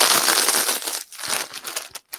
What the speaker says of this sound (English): And now we're going to crunch those up a little bit.